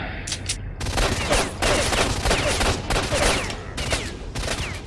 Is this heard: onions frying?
no